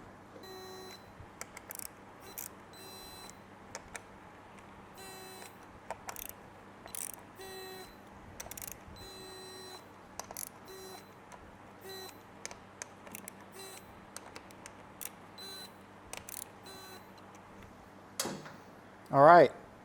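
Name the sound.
torque wrench tightening Harley M8 clutch cover bolts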